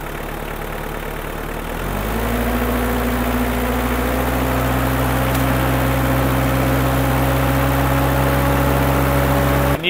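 A car engine with oil mixed into its radiator idles steadily, then is revved to a higher, sustained drone that holds close and loud, with no talk.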